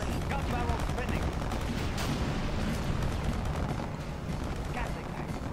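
Rapid Gatling gun fire from a Chinese army in the real-time strategy game The End of Days, a dense, unbroken mechanical rattle mixed with battle noise that holds steady for several seconds and eases slightly toward the end.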